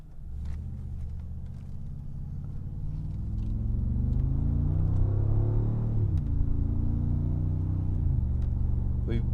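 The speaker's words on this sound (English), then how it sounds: "It's amazing how fast these turbos spool up" A Mercedes-AMG G63 with its twin-turbo V8 driving in sport mode, a steady engine rumble that builds as it accelerates and then holds at a loud, even level, with faint talk underneath.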